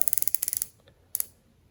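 Turret of a Vector Optics Orion Pro MAX 5-30x56 FFP riflescope turning in milliradian steps: a quick run of about ten crisp, close mechanical clicks, a pause, then one more click.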